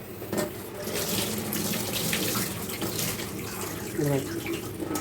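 Tap water runs into a sink while shark pieces are washed, a soft steady splashing with a few bubbly gurgles near the end, fairly faint.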